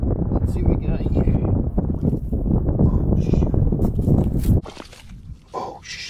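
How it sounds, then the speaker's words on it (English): Strong wind buffets the microphone outdoors at a campfire spot, a loud continuous low rumble that drops off abruptly near the end, leaving faint scattered sounds. "I know it's gonna be hard to hear me just because of the wind"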